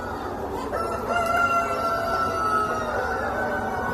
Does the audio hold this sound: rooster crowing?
yes